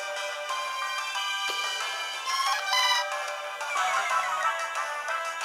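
A mobile phone ringtone plays through a Pokémon HeartGold game session, a steady melodic electronic tune with sustained tonal notes that swell slightly midway, fairly close and alone with no talking.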